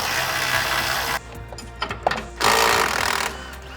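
A power tool rattles in fast bursts as it removes a nut from the rack and pinion on a Polaris General XP. Loud impact chatter is broken by a short pause filled with clicks and metal clanks.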